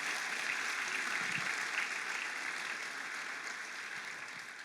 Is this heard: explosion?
no